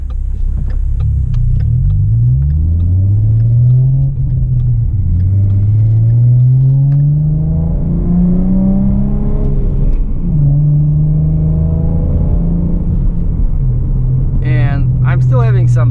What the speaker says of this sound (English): I love the exhaust on this car.